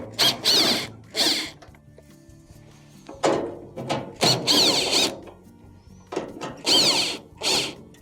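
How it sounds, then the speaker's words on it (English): A power driver backs out two quarter-inch screws from the console of a Maytag dryer, loud short bursts of whirring separated by quieter pauses with faint clicks and handling. "To remove your console, you have two 1/4-inch screws that have to be taken off."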